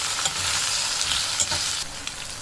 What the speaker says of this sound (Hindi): तकरीबन 3 से 4 मिनट के लिए मैं इसको फ्राई करूँगी